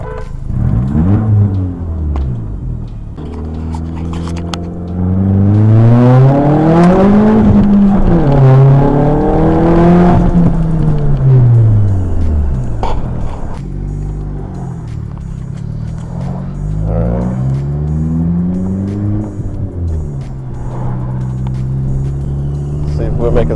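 A VW Passat with a short shifter drives and accelerates from inside the cabin, its engine pitch rising through several gears with dips at each shift, while people talk over the engine noise.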